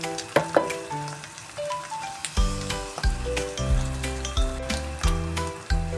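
Chicken sizzles steadily as it fries and toasts in a pan for pastil, a soft broadband crackle running beneath prominent background music.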